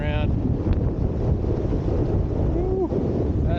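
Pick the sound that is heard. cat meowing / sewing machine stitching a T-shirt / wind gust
wind gust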